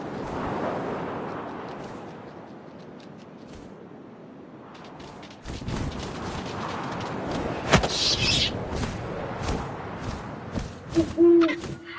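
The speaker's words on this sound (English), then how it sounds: "And suddenly, I was an owl." Low owl hoots sound within the game What Remains of Edith Finch over a soft wind wash, followed by sharper thuds and knocks as the scene grows busier.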